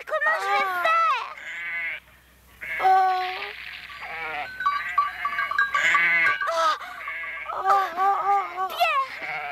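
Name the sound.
goats bleating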